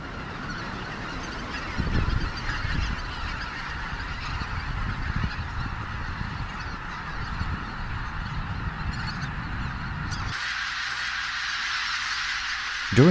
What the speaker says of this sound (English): The geese flock takes to the air again.